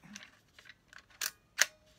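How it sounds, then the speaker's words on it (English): Film being wound on a folding camera: a few soft clicks followed by two sharp ratcheting snaps near the end, close and alone in a quiet room. "To wind it on before you can take another shot"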